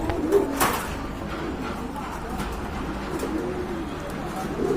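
Pigeons cooing in a loft or coop, low repeated throaty coos close by over a busy background, with a short flutter or thump near the start.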